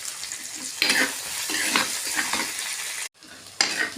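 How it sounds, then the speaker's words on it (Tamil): Onions and green chillies sauté in a pan with a crackling sizzle, broken by repeated stirring scrapes and one brief pause. "வெங்காயம் போட்டுக்கலாம், வதங்கட்டுங்க. பச்சை மிளகாய் போட்டுக்கலாம்."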